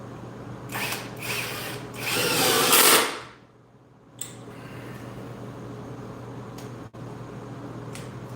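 A power drill used in a home workshop while building bench press safety blocks whirs in a few short bursts, the loudest lasting about a second, then drops away to a quiet room hum.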